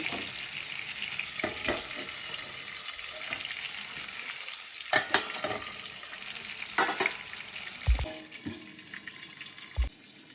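Garlic sizzles and fries steadily in a pan with clinks of a utensil and a few sharp knocks, with no one talking; it is being cooked for a tomato chutney.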